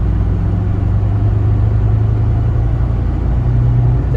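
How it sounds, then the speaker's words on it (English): Low, steady drone inside a 2005 VW Jetta TDI while driving, with a suspected failing wheel bearing, a continuous hum under road and engine rumble, no talk. "So it does sound like there is a wheel bearing noise"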